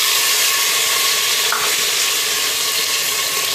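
Potatoes hit hot ghee with cumin seeds in a cooker and sizzle loudly in a dense, continuous crackling hiss, with a brief stir midway and no talk.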